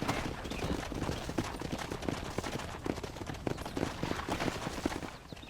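Horse hooves clip-clop in the Red Dead Redemption video game, a brisk, continuous run of close, loud hoof strikes over a busy background of gunfire-like pops and mechanical clatter.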